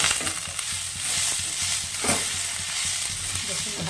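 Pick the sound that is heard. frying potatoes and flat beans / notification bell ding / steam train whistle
frying potatoes and flat beans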